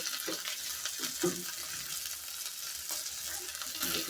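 Rui fish and ash gourd curry base frying in a pan in a village kitchen, with a continuous close sizzle and the soft scrape of stirring throughout, no voices.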